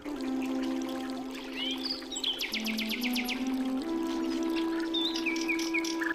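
The Sahasradhara waterfall pours in a constant broadband rush of falling water at moderate distance, with birds chirping and trilling over it and a faint steady tone underneath.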